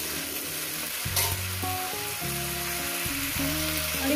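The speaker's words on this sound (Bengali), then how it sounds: "যতক্ষণ না ফুলকপিটা ভাজা হচ্ছে ততক্ষণই আমি ভাজবো" Cauliflower fries in a pan with a steady, soft sizzle running throughout, set under a background of tonal music.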